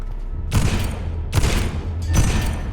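Gunfire from firearms in the video game Vampyr, with three heavy booming bursts spaced roughly a second apart over a low steady game hum.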